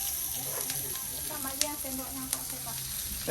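Nasi goreng frying with fresh hot rice and carrots at a Bali village stall, a steady sizzle with occasional sharp clicks of a spatula against the pan, close and continuous over a faint background hum.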